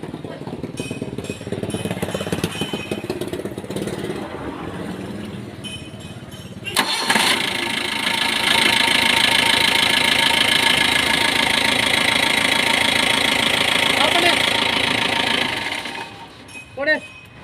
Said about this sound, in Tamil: இப்போ பாருங்கள், பேட்டரியே இல்லாமல் ஸ்டார்ட் பண்ணி காமிக்கிறேன்